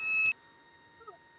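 A sharp electronic beep from the alarm of an automatic industrial gas burner system, one short steady tone close by, followed by quiet hum and a faint chirp.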